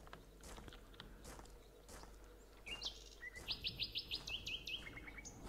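Birds in the video game Colony Survival chirp in quick bright bursts of rapid tweets over soft crunchy ambient game sounds.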